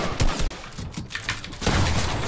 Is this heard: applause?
no